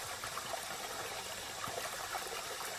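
A small stream of water flowing in a natural permaculture landscape, a steady broad trickling and gurgling wash that stays even and continuous throughout, fairly faint and with no voices.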